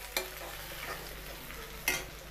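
Baingan bharta, mashed aubergine, gets stirred in a frying pan: a soft constant sizzle with two sharp scraping strokes of the spoon, close and quiet, no talking.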